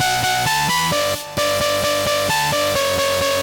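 Two stacked bass house synthesizer leads play a thick, bright melody together in steady rhythmic notes, loud and full, with no talking.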